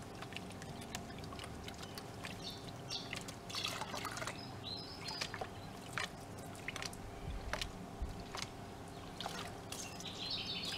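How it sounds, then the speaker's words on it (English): Clean water trickles into a gold pan at a nugget-digging site, with faint splashing and scattered drips that stay quiet and close throughout. "Just put some clean water in there"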